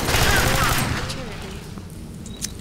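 Rapid automatic gunfire from the sci-fi shooter game Alien Swarm bursts loudly at first and then thins out, with a voice and scattered small game effects underneath.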